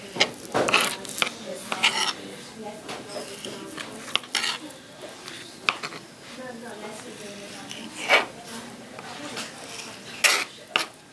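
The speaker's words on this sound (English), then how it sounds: "you're going to cut all visible fat off of it" A knife trims the fat off a cut of beef for jerky on a cutting board, giving irregular clacks and scrapes against the board beneath steady talk.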